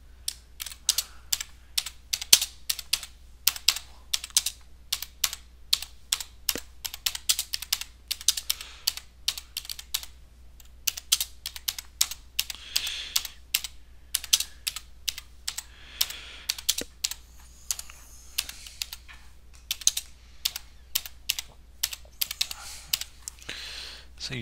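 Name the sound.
typing a caption on a computer keyboard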